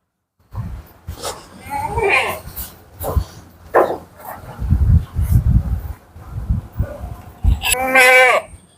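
Several short goat bleats from a recently kidded goat at a dairy farm, mixed with low murmuring voices nearby, ending in a loud wavering bleat close by.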